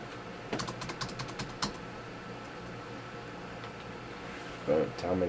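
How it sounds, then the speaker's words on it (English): Clicky keystrokes on a computer keyboard come in a quick cluster of taps, then fall to sparse single presses over a quiet room hum, with a brief louder rustle near the end. "Back to typing."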